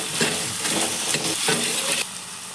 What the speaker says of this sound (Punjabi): ਘੱਟ ਸੇਕ ਦੇ ਉੱਤੇ ਹੁਣ ਆਪਾਂ ਆਲੂਆਂ ਨੂੰ ਥੋੜਾ ਜਿਹਾ ਸੌਫਟ ਕਰਾਂਗੇ